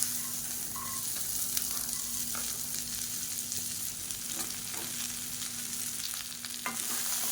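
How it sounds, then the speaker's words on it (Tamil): Small-cut okra fries in oil in a pan with a constant soft sizzle and occasional light spatula taps, fairly quiet and even throughout. "இதை நல்லா வதக்கி எடுத்துக்கலாம்."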